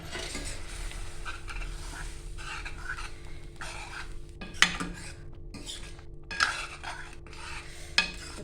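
Steady low kitchen hum with soft scraping as the lid is removed and dal with spinach is stirred in a pot, punctuated by three sharp metallic clinks of a spoon or lid against the rim.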